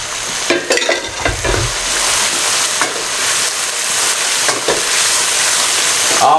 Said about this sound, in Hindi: इस कद्दू को भी अच्छे तरीके से 2 से 3 मिनट इसके अंदर भुनाई कर लें